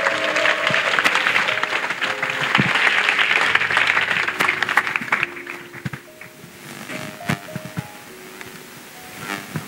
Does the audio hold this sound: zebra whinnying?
no